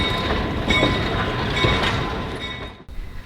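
A small excursion train rolls around the grounds of Steamtown National Historic Site in Scranton, Pennsylvania, giving a continuous close rumble and rattle of wheels on track that drops away abruptly near the end.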